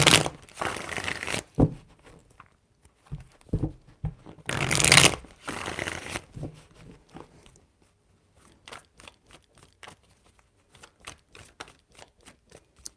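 Tarot cards are shuffled by hand in several bursts of riffling and flicking, close and crisp, with pauses and softer taps between the bursts.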